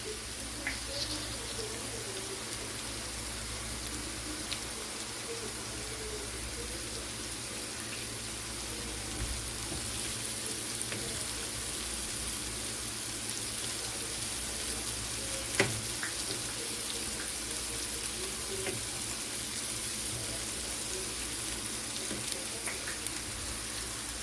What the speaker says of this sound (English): So we'll give them a minute to brown up a little bit, just a little bit, and get translucent.